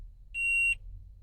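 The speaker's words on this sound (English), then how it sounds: "there's the beeping sound" A single clear electronic warning beep from a 2012 Toyota Vellfire 2.4 hybrid, steady and moderately loud, sounds for about half a second over a quiet low hum.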